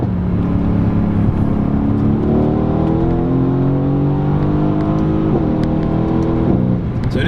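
Mercedes C63s AMG Coupe with a twin-turbo V8 pulling hard under acceleration, a loud close-up engine note climbing steadily in pitch through the gears, with a brief dip near the end.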